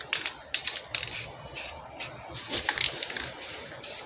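A spray can mists paint onto a car rim in short, repeated hissing bursts, each about a third of a second long, heard close and fairly soft with brief pauses between them.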